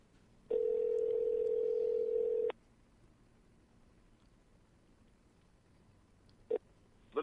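Telephone call sequence: a steady two-second tone sounds clearly and alone, then a quiet lull, followed by brief single tones as the line connects, no talking heard.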